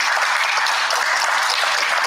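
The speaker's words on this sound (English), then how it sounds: "Could you give her a round of applause?" A school board of education meeting audience applauds steadily, a dense, even wash of clapping at constant volume with no talk over it.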